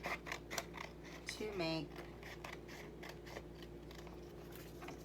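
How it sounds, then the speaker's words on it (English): Scissors snipping along an edge of origami paper, a quick series of close crisp cuts at the start, with a voice talking over a low background hum. "So let's go ahead and cut along this little edge"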